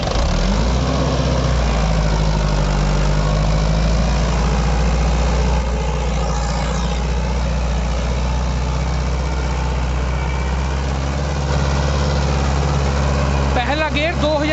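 A tractor engine runs loud and steady at 2000 rpm in first gear, a heavy low rumble throughout, with people talking under the noise.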